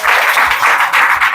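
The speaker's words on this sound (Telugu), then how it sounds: "చప్పట్లు కొట్టాలి కదా." A church congregation claps hands together in a dense, steady burst of applause, loud and close, with no talking over it.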